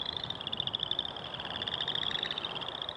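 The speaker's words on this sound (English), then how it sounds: "Like the frogs emerging from winter," A dense spring chorus of frogs at Oxbow Park, a steady high trilling drone of many calls blending together continuously over a rough background hiss.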